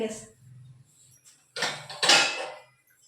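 A metal bowl is picked up and set down in a home kitchen, with a short clatter then two louder scraping clanks of metal near the mic, quiet room noise between.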